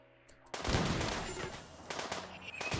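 Gunfire from a slugger turret in the RimWorld colony game: a burst of loud, dense shots that starts abruptly, runs for about two seconds, then picks up again after a short dip.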